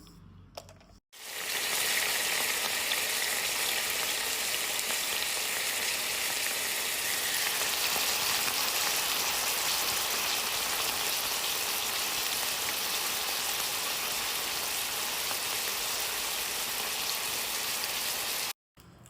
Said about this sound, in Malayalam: കുറച്ച് വറുത്തിടാൻ വെളിച്ചെണ്ണ വെച്ചിട്ട് കായ്മുളകും കടുവാണ് വറുത്തിടുക